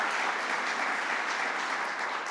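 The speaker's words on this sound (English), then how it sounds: "Let's give another round of applause to Hope Knight" An audience at a governor's economic development announecement on Long Island claps in an even, sustained round of applause, moderately distant and steady with no talk over it.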